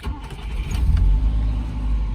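A 1968 Volvo 1800 S with its 1.8-litre engine cranks briefly and catches, settling into a low, rumbling idle close by at a live auction.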